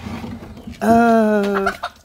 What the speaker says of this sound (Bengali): এখন এই যে মুরগির খোয়ার খুলতেছি। ওই দেখেন কিভাবে ডাকাডাকি করতেছে, পাগল হয়ে গেছে।